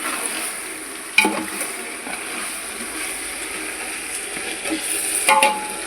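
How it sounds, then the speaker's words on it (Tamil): Chicken simmering in biryani masala in a pot, a low steady sizzle and bubbling with a couple of faint utensil knocks against the pan. "இப்போது இந்த மசாலையில் தான் இந்த சிக்கன் வேகணும்."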